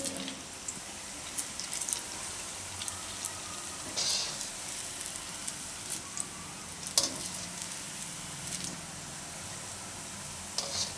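Green chickpea bhajiya fritters frying in hot oil make a soft, continuous sizzle, broken by occasional sharp clicks and scrapes of a utensil, with no one speaking.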